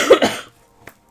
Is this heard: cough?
yes